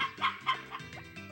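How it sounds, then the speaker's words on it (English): A hen clucks in the Harvest Moon farming video game: a quick run of short, bright, regular clucks over a steady synthetic tone, loud and close, with no voices. "Mary, you are the wrong hen."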